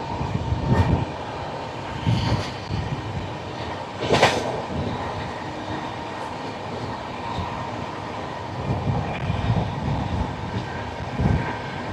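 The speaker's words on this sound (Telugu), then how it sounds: "మీకు కనిపిస్తున్న ట్రైన్ వచ్చేసరికి పూరి నుంచి జయనగర్ వరకు వెళ్ళే ట్రైన్ ఇది." Puri–Jaynagar train 18419 rumbles past near Khurda on the way to Bhubaneswar, a moderate, steady rolling noise punctuated by several sharp thumps and clanks spaced through the passage.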